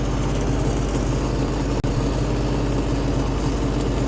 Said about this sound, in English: As long as it's running smooth, I know I've got a good engine.